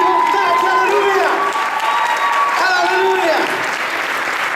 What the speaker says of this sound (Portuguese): aplaude Ele com força, com graça e com vontade